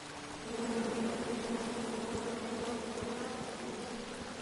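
Bees from a swarm in the King's Quest (2015) video game drone in a dense, continuous buzz, steady and fairly loud throughout, with faint clicks underneath and no talk.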